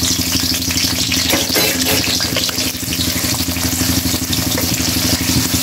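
Eggplant frying in oil, a steady, close, continuous sizzle and crackle with no pauses and faint rhythmic tapping over a low background hum.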